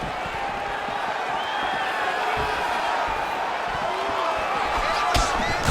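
A crowd at a UFC fight makes a steady roar of applause and cheering through the arena, with a commentator's voice running over it and a few sharp thuds standing out near the end.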